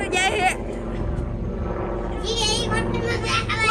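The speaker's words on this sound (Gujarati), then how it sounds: "મારા કલે જાય હેલિકોપ્ટર જાય છે." A steady low rumble of a helicopter passing overhead, loud and continuous, with people chattering and calling out over the engine noise.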